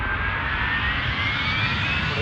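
Jet engines of an Airbus A310 spool up for takeoff in the Airline Commander flight game, a steady loud roar with a whine that slowly climbs in pitch.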